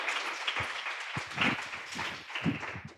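Applause and clapping from an audience at a live event in a Volvo showroom in Kuwait, a dense burst of hands sustained for about three seconds with no speech over it.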